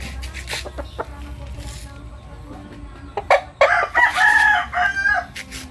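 A Boston Sweater rooster crows loudly and close after some scattered clucking, its call stretched out and raspy near the end.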